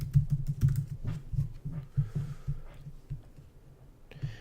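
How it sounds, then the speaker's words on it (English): Someone types an email on a computer keyboard, producing a close run of soft, uneven key clicks and taps with brief pauses between bursts. "Let's see if it'll let me type in a test email here"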